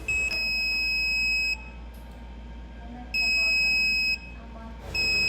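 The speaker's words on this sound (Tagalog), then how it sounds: "we made the buzzer beep in Morse code for SOS" A buzzer sounds SOS in Morse code, long steady tones separated by pauses, loud and electronic over a faint background hum.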